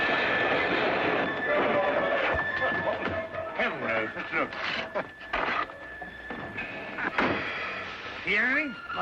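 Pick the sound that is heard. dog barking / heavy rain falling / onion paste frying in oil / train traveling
train traveling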